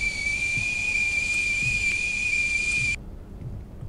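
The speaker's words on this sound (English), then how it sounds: "Why is the kettle on?" A whistling kettle in the horror game THIRST gives a steady, shrill, high whistle with a faint hiss for about three seconds, then cuts off abruptly, leaving quiet room tone.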